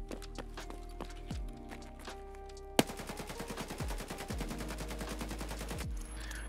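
AKM rifle hip fire in Escape From Tarkov, a few spaced single shots followed by a sharp crack and a long rapid automatic burst of loud close gunfire, with no talk over it.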